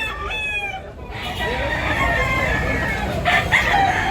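At a gamecock market in Tabunok, Talisay, Cebu, a rooster's crow rises out of the crowd din, with other calls and chatter around it.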